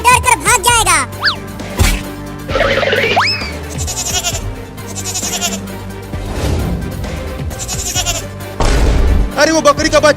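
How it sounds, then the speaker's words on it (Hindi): Cartoon baby goat bleats in a comedy farm scene with a watermelon field, high wavering cries repeating several times over background music and sound effects, with a voice talking between them. "अरे वो बकरी का बच्चा मेरे खेत में आ रहा है मेरा लालमी खाने"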